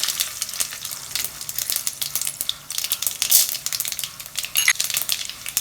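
Mustard seeds and urad dal crackle and sizzle in hot oil in a pan for cabbage poriyal, a steady close spitting and popping with scattered sharper pops.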